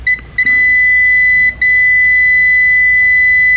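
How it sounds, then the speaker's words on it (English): A continuous high electronic beep tone sounds steadily and loudly, with two brief interruptions near the start, and no talking. "this beeping noise is kind of annoying"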